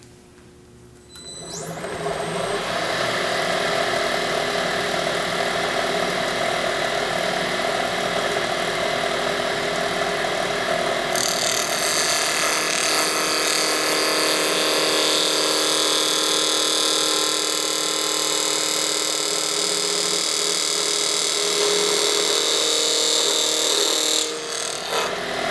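A spindle gouge cuts wood on a lathe turning at about 2000 RPM. A steady, loud, bright whirring tone with a dense scraping texture runs for about 23 seconds without talk, then stops.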